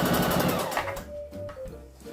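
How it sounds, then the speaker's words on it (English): A sewing machine stitches an elastic band onto a circle skirt seam, with a fast loud mechanical run at first, then slower, quieter intermittent stitching bursts nearby. "I just finished at the sewing machine sewing this seam"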